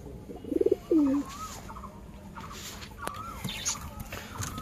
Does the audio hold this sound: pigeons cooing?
yes